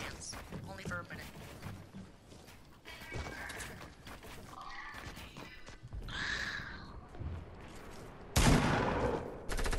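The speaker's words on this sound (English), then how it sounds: "Why are you shooting at me?" Scattered gunfire in Fortnite sounds through busy game noise as bursts of shots at mid distance, with people talking over it and a louder blast near the end.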